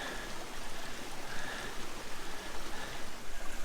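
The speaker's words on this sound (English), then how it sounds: "Right here, guys. It's a stream." Spring snowmelt runs in a small stream across an Adirondack hiking trail near Lake George, a steady rushing babble close by with gentle gurgling pulses, heard on its own.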